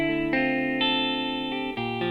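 Sustained, effects-drenched electric guitar chords run through a delay on a vintage tweed amp preset, several chord changes ringing continuously with echoing repeats and a chorus-like shimmer, loud and alone with no talking.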